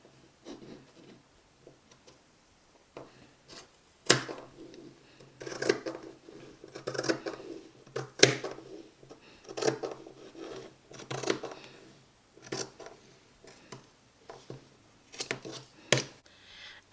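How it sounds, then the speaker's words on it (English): Scissors snip through non-stretch fabric in a string of short, crisp cuts that come in bursts with pauses between them, close up and moderately loud, with no voices. "I'm going to cut the excess pieces, just the tiny ones"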